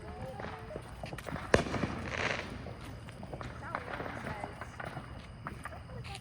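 A small magic dragon firework set off at home for a July 4th celebration gives one sharp pop followed by a brief fizzing crackle, with children's voices talking over it throughout.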